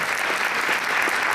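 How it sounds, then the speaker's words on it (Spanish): An audience at a panel session on administrative law gives steady, dense applause, many hands clapping at once in a continuous wash with no voices on top. "Con este aplauso"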